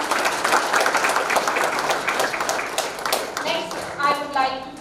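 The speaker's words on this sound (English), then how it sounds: "Big round of applause." Audience applause at a STEM Club badge ceremony, a dense crowd of hands clapping steadily for about four seconds before thinning into scattered claps as a voice begins speaking.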